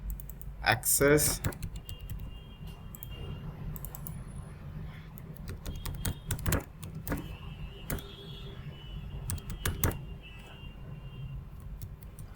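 Clicky computer keyboard typing in scattered bursts and single keystrokes, close and moderately loud, with a person speaking intermittently over it during a software training session.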